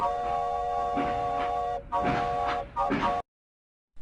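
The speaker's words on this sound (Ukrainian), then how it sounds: "Так, це звук потягу." A train sounds a sustained horn, then a few shorter rumbling bursts, loud and close, before cutting to silence.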